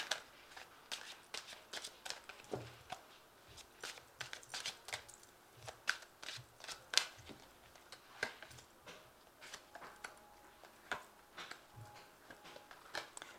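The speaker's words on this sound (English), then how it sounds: "So I'm just going to draw some cards from the Angel Tarot." Angel Tarot cards being shuffled and drawn, a close, quiet series of soft riffling flicks and crisp card snaps at an irregular rhythm, with small taps and rustles between them.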